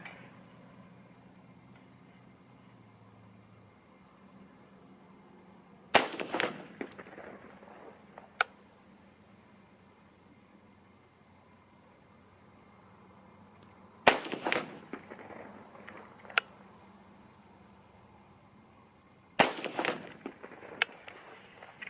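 Three loud, sharp rifle shots from a 6.5 Grendel AR-15 at an outdoor range, spaced several seconds apart, each with a short echoing tail over a quiet background.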